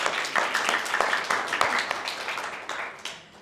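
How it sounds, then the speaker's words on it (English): A pitch-night audience in Western Sydney gives a round of applause for the speaker, dense clapping that swells at the start and gradually thins out over a few seconds. "Please give a big round of applause to Casper."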